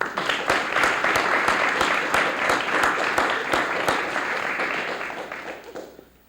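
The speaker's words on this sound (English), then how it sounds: "How about a round of applause for our judges?" An audience at a speech contest broadcast applauds the judges, a dense, steady wash of many hands clapping close by, holding for about five seconds before thinning and fading out at the end.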